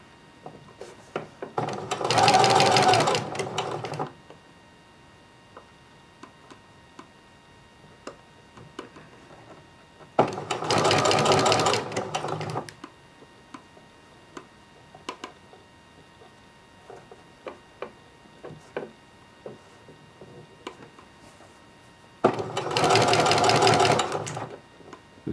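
A sewing machine stitches stretchy fabric for a pair of shorts in three loud, steady runs of a few seconds each, with quiet gaps between them filled by light clicks and handling noises.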